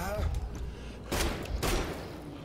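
Gunfire in Wolfenstein: The Old Blood, a couple of sharp bursts of shots ringing out close and loud amid a speaking voice, with short pauses between the volleys.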